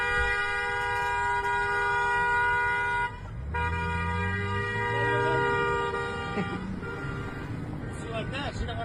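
A car horn blares in a long sustained honk on a roadside, holding steady for most of the stretch with a brief break, while people talk and traffic hums underneath.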